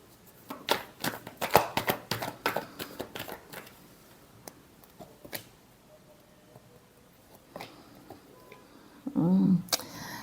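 Tarot cards being shuffled by hand in a dense run of crisp riffling clicks and flicks through the first few seconds, then a few sparse taps before a brief louder rustle near the end, with no talk.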